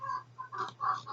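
Chickens cluck in a short run of bursts, with rising and falling calls repeating at close range. No one talks over them.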